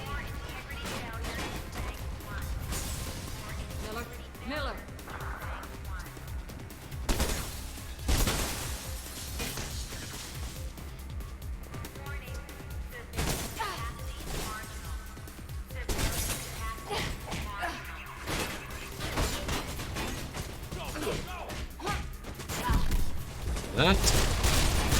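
Gunfire in Mirror's Edge crackles in rapid bursts and single bangs with some smashing impacts, mixed under dense game sound and someone talking at length.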